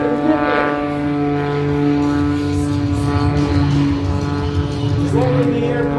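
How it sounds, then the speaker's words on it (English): Propeller aerobatic plane at the 2024 First State Airshow rolling at slow airspeed, its engine droning steadily and loudly throughout with a strong harmonic buzz and no talk over it. "Rolling the airplane around, even at that slow airspeed, he has got tons of rolling capabilities."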